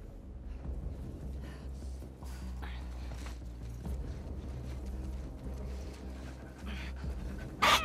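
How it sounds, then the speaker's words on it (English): Dog panting in The Last of Us Part II, steady rapid breathing over a continuous low game ambience, with faint background sounds and a brief sharp noise near the end. "See the dog there."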